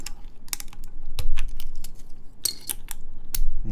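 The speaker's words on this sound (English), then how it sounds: "You kind of need to take off these keycaps actually." Plastic keycaps being pried off an Axe 60 mechanical keyboard, a scattered run of close, sharp clicks and snaps with brief gaps between them.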